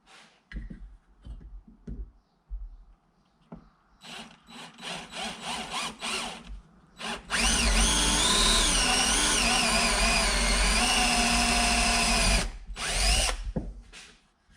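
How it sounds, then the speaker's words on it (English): A power drill whirs in short bursts while drilling 1/8-inch holes in a Kawasaki X2 tank hold-down bracket, then runs in one long, loud, sustained drilling stretch before tapering off, with small handling noises between. "I'm going to drill 1/8 holes in the inside of these crosshairs"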